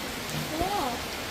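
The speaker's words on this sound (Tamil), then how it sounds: "விடாத அளவுக்கு மழை பெய்தபடியே இருக்குது." Heavy rain falls in a steady, dense hiss for a brief moment, with a faint tonal sound passing through the middle.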